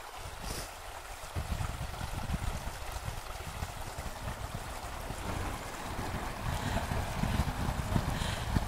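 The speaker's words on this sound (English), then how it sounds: "I'll give you a minute to listen to the rushing water." A creek at Withrow Springs State Park rushes steadily at the water's edge, a dense, continuous broadband wash that stays fairly loud and even throughout with no voices.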